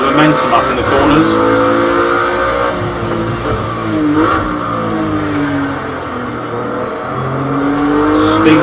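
Group C race car engine in Project Cars 2, revving loud and close with rising and falling pitch through a difficult right-hand corner, as someone talks over it.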